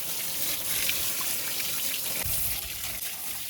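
Pressure water spray washing a tractor at a washing point, a steady hissing gush of water close by with brief splashy surges, no talking.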